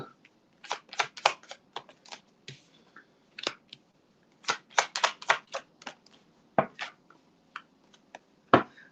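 Crisp, rapid riffles and flicks of tarot cards being shuffled come in quick bursts with short pauses between them, close and fairly loud, with no talking.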